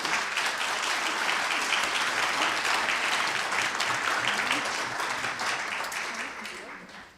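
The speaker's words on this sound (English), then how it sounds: "round of applause for the kids, because they're amazing" Audience applause for the kids at a high school Christmas concert, a dense steady round of clapping that carries on for several seconds and fades toward the end, with voices faintly mixed in.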